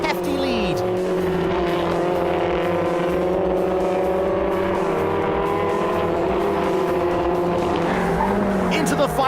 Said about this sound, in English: Into the final bend, and Graham Hepburn